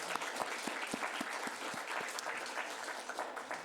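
Church congregation applause at a Sunday service: many hands clapping steadily and fairly loud, continuing without a break and with no voices.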